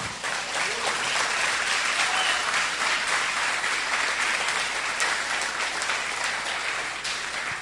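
A church congregation claps continuously, a full, even wash of applause that holds steady before tapering slightly at the end.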